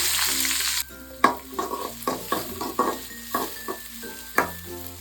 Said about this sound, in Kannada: ಎಣ್ಣೆ ಕಾದಿದೆ ಸಾಸಿವೆ ಸಾಸಿವೆ ಸೇರಿದಿದೆ ಇವಾಗ ಇದಕ್ಕೆ ಈರುಳ್ಳಿ ಮತ್ತು ಕರ್ಬೇವು ಹಾಕ್ಕೊಳ್ತಾ ಇದ್ದೀನಿ